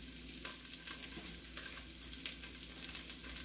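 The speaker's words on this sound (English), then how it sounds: "we're going to get it cooked and break it down with my meat masher" Ground beef cooks in a Dutch oven over low heat, a soft steady sizzle broken by the scrape and thump of a meat masher breaking it up, fairly quiet and close, with no talk.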